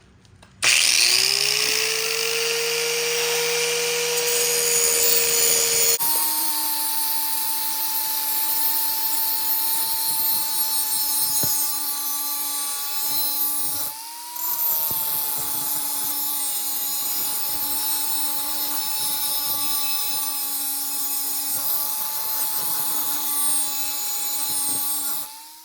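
Power grinder sharpening a push lawn mower blade, a loud continuous whine that holds steady for about twenty-five seconds with only a brief dip midway, close and alone with no voices.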